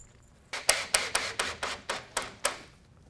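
Wood screws being driven to fasten shelves onto a DIY workbench kit frame, heard as a series of about eight sharp, evenly spaced bursts, each decaying quickly, close and fairly loud with no talking.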